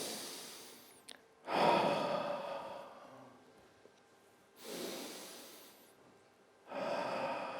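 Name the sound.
deep breathing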